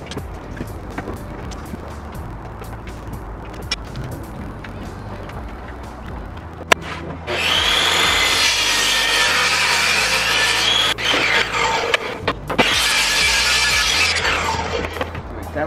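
Miter saw cutting scrap wood at a workbench, two loud sustained bursts of whining blade through timber after a quieter stretch of handling noises, close by with no talk.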